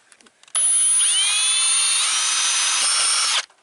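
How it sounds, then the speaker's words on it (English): A power drill whines loudly and steadily for about three seconds, drilling a hole for wire leads while installing vehicle side marker lights, starting and stopping abruptly, with a faint bump partway through. "I got to drill a hole right there for these leads to go through"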